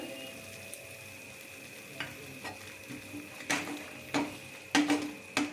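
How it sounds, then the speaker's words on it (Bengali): Spiced masala cooked down with sour yogurt in oil while making a Bengali pointed gourd peel dish, soft sizzling under a few sharp stirring scrapes and clinks that grow louder toward the end. "টক দইটা যতক্ষণ না তেল ছাড়বে টক দইটা ততক্ষণ আমি একটু কষিয়ে নেব।"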